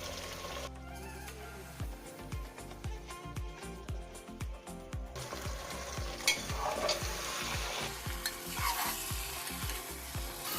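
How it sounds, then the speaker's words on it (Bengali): Mutton with bay leaves frying and being stirred in a pan for a mutton curry, a steady sizzle under rhythmic scraping strokes of a spoon, close and fairly loud, with no talking. "তেজপাতা দিয়ে ভালোভাবে মাংসটাকে কষে নিলাম"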